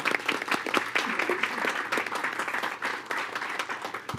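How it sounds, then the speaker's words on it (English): An audience at a school board meeting applauds steadily for several seconds, a dense, fairly close wash of many hands clapping with no break. "Let's give them a round of applause."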